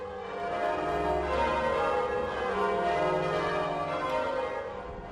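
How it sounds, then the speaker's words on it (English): Church bells ring during a Tuesday bell ringers' practice in Cape Town, a sustained, ringing tone with overlapping harmonics, heard from some distance at moderate level with no voices. "he always tries to take part in the bell ringers practice session on Tuesdays, whenever the RMS is in Cape Town."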